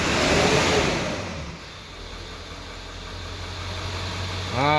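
A converted 7.3 engine in a bus runs at a steady idle with a low, even drone. Near the end a brief rising whine swells over it.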